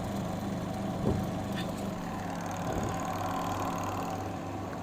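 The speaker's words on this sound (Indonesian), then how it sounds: "Motor sudah berputar." A Denpoo washing machine spin dryer motor runs under test after repair, giving a low, steady hum with faint mechanical rattling, fairly quiet and continuous throughout.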